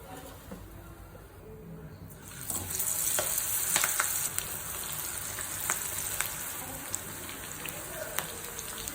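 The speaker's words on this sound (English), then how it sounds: "Now let's fry" Mushroom pakodi batter with curry leaf, green chilies and cashews frying in hot oil, a steady loud sizzle that swells after a quieter start, with scattered crackles and pops throughout.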